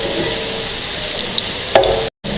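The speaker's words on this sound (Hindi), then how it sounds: "ये प्याज का कलर देखे चेंज हो रहा है, थोड़ा सा गोल्डन और हो जाए तो इसके अंदर हम कीमा डालेंगे" Onions fry toward golden in a pan for beef keema pulao, giving a close, even sizzle with a few faint stirring scrapes and a brief knock before a short dropout.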